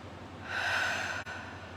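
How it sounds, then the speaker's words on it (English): A person takes a slow, steady inhale through the nose during a calming morning guided-breathing moment, a soft airy rush that swells and holds close to the microphone with no talk over it. "Just breathing in through the nose"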